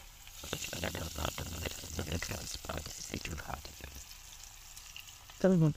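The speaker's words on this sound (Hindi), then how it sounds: "इसमें हम डाल देंगे इसे फ्राई करने के लिए" Okra (bhindi) frying in hot oil gives a steady crackling sizzle throughout, with brief stirring clatter and a sharp louder burst near the end.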